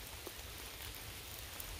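Steady rain falls at a woodland campsite along a long-distance hiking trail in Pennsylvania, a soft continuous hiss of drops on leaves and gear, fairly faint and even throughout with no voices.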